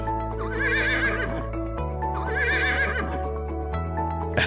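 A cartoon horse whinnies twice in a long, wavering neigh over a steady musical backing; no speech.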